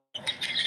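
Birds chirping in the background, a brief burst of high, scratchy twittering that starts suddenly and keeps going, fairly faint.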